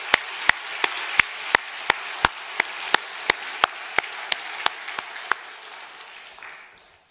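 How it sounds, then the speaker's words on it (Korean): A church congregation applauds together at a Sunday service, with sharp evenly spaced claps in a steady rhythm over a wash of scattered clapping that fades out toward the end. "여러분 서로가 서로에게 한번 존경과 격려와 사랑의 마음으로 한번 박수했으면 어떨까요?"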